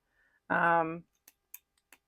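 A Vanishing Point retractable-nib fountain pen clicking, giving three or four small, crisp clicks spaced roughly a quarter second apart, close and quiet, just after a short spoken sound.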